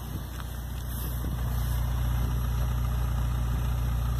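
A Fiat Palio Fire 1.3 fitted with 1.0 injectors idles steadily, its exhaust giving a smooth, even low rumble with no misfire, close and continuous.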